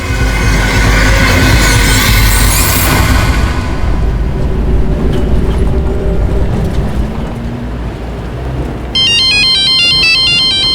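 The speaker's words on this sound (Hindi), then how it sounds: "रुको पापा, मैं आपको फोन उठा के देती हूँ।" A phone ringtone rings in a Crime Patrol drama scene, a bright repeating electronic melody that starts near the end, after a long loud rumble of a passing train with squealing wheels.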